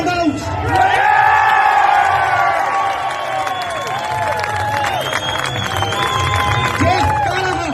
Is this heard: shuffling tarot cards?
no